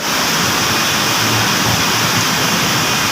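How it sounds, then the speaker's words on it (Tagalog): A fountain under a bridge splashes in a loud, unbroken rush of water, a dense steady roar close by. "Ayan po ang fountain dito sa ilalim."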